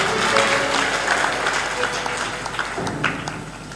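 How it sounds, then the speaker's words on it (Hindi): Audience at a religious gathering applauding for donors, dense steady clapping from a crowd sustained throughout, mixed with some voices and room noise. "ताली बजाइए दानियों के लिए।"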